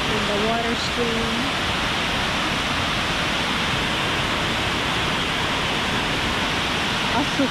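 Stream below Mag Aso waterfall on Negros island, a steady close hiss of flowing water throughout, with brief talking at the opening.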